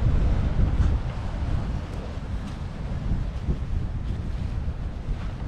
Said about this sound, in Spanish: cada que rompe aquí la ola, miren, ¡pum! Y ahí se va juntando el sargazo